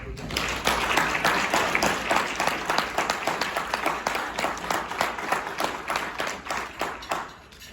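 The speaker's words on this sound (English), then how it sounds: "So another big round of applause." An audience at an awards dinner applauds in a dense, sustained burst of many hands clapping, steady and moderately loud throughout, tapering slightly at the end.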